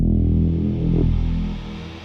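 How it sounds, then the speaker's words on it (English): A low, gritty synthesized growl rumbles steadily, distorted and buzzy, fading slightly toward the end; no voices. "we have a little synth growl down there"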